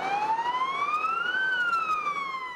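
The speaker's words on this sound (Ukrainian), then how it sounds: "Пожежна та швидка їздили містом з проблисковими маячками та увімкненими сиренами." A wailing emergency siren from a fire engine and ambulance driving through city streets with flashing lights, rising and falling in a single loud, steady sweep that stays close throughout.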